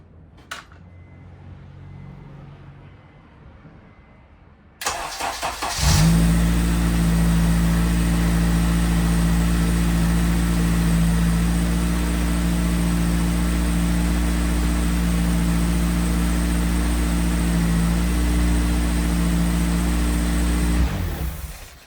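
A Honda Jazz with a swapped K20 engine cranks and catches, then settles into a steady, loud idle that runs for about fifteen seconds before cutting off.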